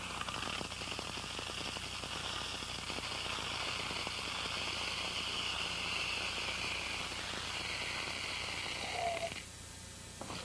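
Dried beans pour into a plastic bottle in a dense, continuous rattling patter like rain, close and steady for several seconds before trailing off.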